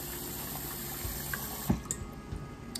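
Rice is washed with water at a sink, with steady running water and soft sloshing splashes close by and no talk.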